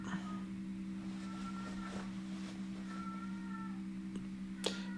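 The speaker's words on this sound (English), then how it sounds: "My cat's going off right as I said that." A house cat meows repeatedly, several drawn-out tonal calls rising and falling over a steady low electrical hum, indoors and fairly close, with a sharp click near the end.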